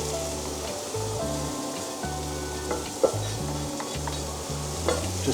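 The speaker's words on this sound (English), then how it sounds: "We'll get this lovely burger going here" A beef burger sizzles steadily in a hot frying pan, a continuous crackling hiss with a faint low hum beneath and a few small spatters, heard alone without talk.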